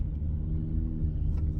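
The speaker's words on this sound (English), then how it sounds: "this car revving their engine around here" A car revving its engine nearby outdoors: a heavy, steady low rumble that fills the whole stretch, loud and unbroken, with no talk over it.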